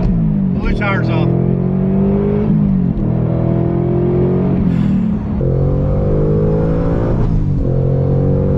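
Supercharged 2021 Ford Mustang Mach 1 pulling hard at wide-open throttle, a loud close engine roar climbing in pitch through repeated gear changes, with brief voices over the noise.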